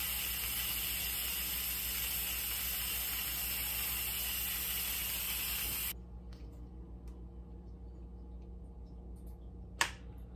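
A pressure cooker releases steam in a loud, steady hiss that cuts off abruptly partway through, leaving a quiet hum followed by a single sharp click as the pressure button drops.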